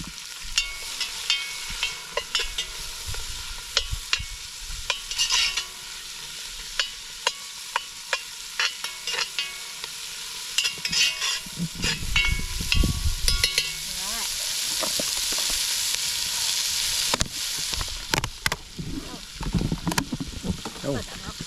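Onions and chopped garlic fry in a pan over an outdoor fire, giving a crackling sizzle with frequent scraping and knocking of utensils that swells into a denser hiss partway through.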